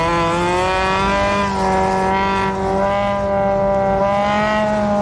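Stock cars in a NASCAR Division III enduro race drone steadily at a close, loud, sustained engine pitch that shifts gently as the pack runs laps, with no talk.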